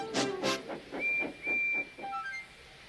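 A steam engine's whistle sounds in two short bursts with hissing steam, followed by thinner tonal whistles trailing off, fairly quiet and with no voices.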